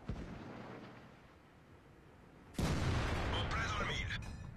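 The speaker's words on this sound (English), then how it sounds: "there you can see a nice 0 damage hit on the side of the 28 prototype" A tank cannon shot in World of Tanks from an AMX 50 120, a sudden loud boom with a crackling, rumbling tail that follows a quieter stretch of engine rumble.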